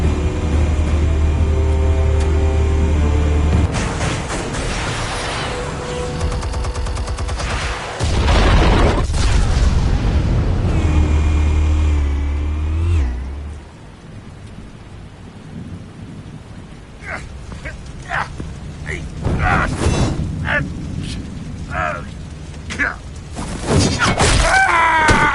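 Explosives detonating in the Batman Telltale game, a loud sustained rumbling blast with deep booming low end and crackling debris, followed by quieter scattered impacts and a second swell of rumble near the end.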